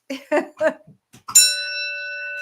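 A single bell is struck once after a few seconds of speech, its clear, bright tone ringing out and sustaining with a slow decay.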